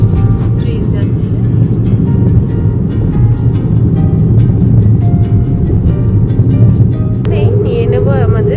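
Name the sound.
train passing, heard from car on Kolaghat bridge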